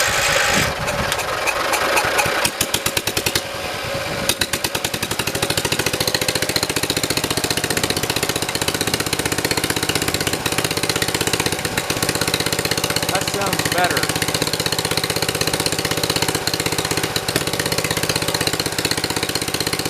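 A 1972 John Deere 112 lawn tractor engine idles steadily and loudly, with a continuous mid-pitched running drone and vibration throughout, after a brief rougher start at the beginning.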